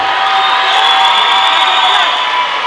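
An audience at a Miss Tampon 2022 pageant cheers the eleven candidates with a continuous, loud wash of crowd whooping and shouting that holds steady throughout.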